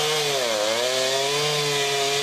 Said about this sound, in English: The sound of chainsaws filled neighborhoods across Cambridge today after storms last night caused damage